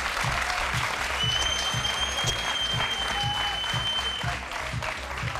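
Steady audience applause fills the room, dense and sustained, with a faint rhythmic low thumping beneath and a few whistle-like tones over the top.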